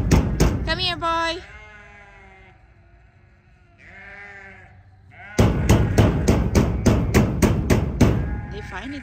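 Baby sheep bleat close by with quivering cries near a farm fence, followed by a run of sharp, rhythmic hammer-like knocks.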